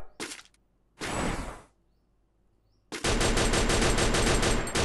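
Gunfire bursts in the Free Fire battle royale game during a headshot: two short rapid volleys, then a longer sustained burst of fast automatic shots, loud and close with silent gaps between.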